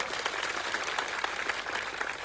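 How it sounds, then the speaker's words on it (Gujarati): Dense, steady applause from a large crowd, continuous throughout without pauses, heard from within the audience. "મીડિયા મિત્રો માટે એકવાર જોરદાર તાળીઓ પાડી લો"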